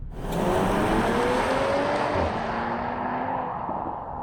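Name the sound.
V6 SUV engine driving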